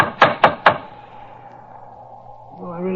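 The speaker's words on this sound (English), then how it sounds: "Let's try the knocker." Three sharp, loud raps of a door knocker come in quick, even succession, followed by a fading ring and quiet room tone before a voice begins to speak.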